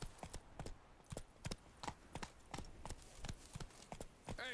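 Roach, a horse in a video game, trots across open country with steady, distinct clip-clop hoofbeats, close and fairly loud, ending in a brief whinny-like sound; no one talks.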